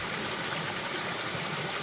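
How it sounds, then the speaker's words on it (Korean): Continuous rushing water from a mountain valley stream on Hwaaksan, near Daechon village between Miryang and Cheongdo, a steady, fairly loud broadband flow heard alone without speech. "이 자연의 소리 해가지고 물 흐르는"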